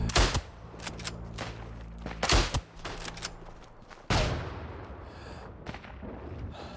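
Enemy gunfire in a first-person shooter video game: loud, close bursts and single shots fire in irregular clusters, with heavy booming hits and a sharp blast partway through, with almost no talk.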